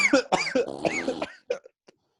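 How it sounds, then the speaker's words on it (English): Several sharp coughs and throat clearing from a person choking on a screwdriver cocktail of vodka and orange juice, loud and close at first, then trailing off into a few fainter coughs and near silence. "I'm choking on orange juice and vodka."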